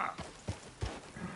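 Horse hooves clip-clop in Red Dead Redemption 2, four distinct, evenly spaced, fairly close hoof thuds at a walking pace over a quiet background.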